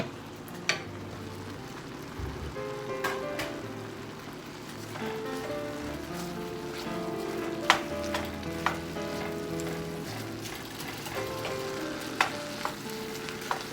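Chopped onions and chili peppers tossed into meat sizzling for Ethiopian tibs, giving a steady, moderate frying hiss with occasional stirring clinks and scrapes, close by.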